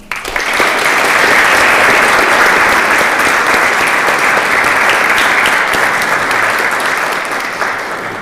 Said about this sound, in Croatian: ohrabrite ih jednim velikim pljeskom